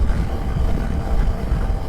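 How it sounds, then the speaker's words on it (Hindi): A constant low roar of wind and engine rumble from a Suzuki V-Strom 250 motorcycle cruising at about 110 km/h on an open highway, loud and unbroken throughout. "और बाइक चल रही है अभी 109-110 की स्पीड में"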